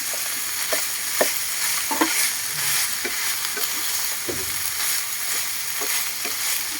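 Spinach and Baguio beans are stirred in a hot pan, with a steady sizzle under scattered scrapes and clicks of the spatula, close and moderately loud, with no talking.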